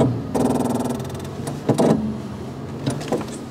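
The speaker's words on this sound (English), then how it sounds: "That, my friends, is the vehicle stability control." The vehicle stability control of a Toyota FJ Cruiser engages during a snowy parking-lot donut, giving a buzzing mechanical whir with rapid pulsing, followed by a few sharp clunks and thumps from the truck.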